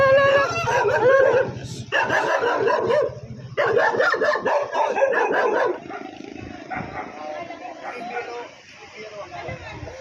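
A dog barks and yelps repeatedly nearby while several people talk and exclaim over it, the noise dropping somewhat toward the end.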